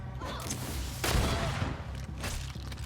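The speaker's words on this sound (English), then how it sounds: "Shoot me with a gun." Gunfire bursts out during combat in the PC game GreedFall, a loud cluster of shots around the middle over a steady low rumble of game ambience, with fainter cracks trailing afterward.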